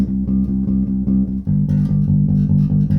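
A blues bass guitar line in driving, evenly pulsed eighth notes, close and loud, with a shift to a higher pattern halfway through and no talking.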